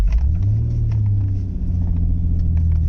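An Acura TL Type-S with a freshly replaced throttle body and pedal position sensor drives along on a test run, giving a steady, close engine and road rumble with a mild rise in revs.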